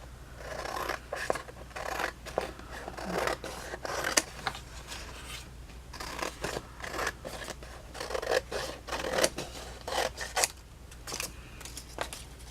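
Scissors trim the white paper edge off a journal page, making a series of soft, crisp snips and rustling paper sounds at close range, repeating irregularly over several seconds.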